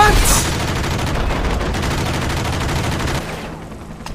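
Sustained gunfire in the 2003 action game Enter the Matrix, a dense rattling burst of rapid shots that runs loud and continuous for about three seconds before easing off.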